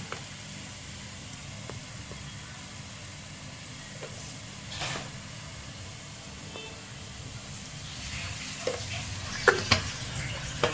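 Chili powder, turmeric and garam masala sauté in a pan for cutlet filling, giving a quiet, steady sizzle with occasional scraping stirs that grow louder toward the end.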